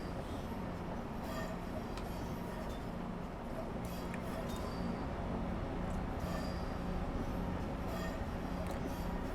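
A CSX genset locomotive in the Train Simulator 2019 video game rolls steadily on the New York New Haven line, a continuous rumble with rail noise and faint voices underneath.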